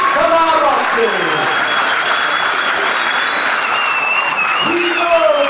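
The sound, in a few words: crowd applause for boxers at boxing event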